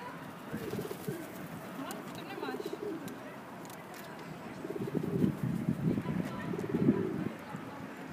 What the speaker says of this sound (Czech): Nemám rád holuby.